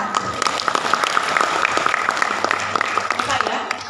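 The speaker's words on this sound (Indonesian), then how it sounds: "Boleh tepuk tangan." Audience hand clapping at a school program evaluation gathering in Garut, Indonesia, a sustained patter of claps from a roomful of people with voices mixed in throughout.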